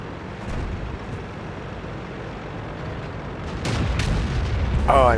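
A T21 tank fires its cannon on the Prokhorovka map in World of Tanks: a deep boom near the end rises over a constant low engine rumble.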